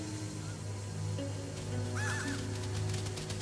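A few short cawing bird calls rise briefly over a steady mechanical hum in Luigi's Mansion 3, as the birds are sucked up by a vacuum.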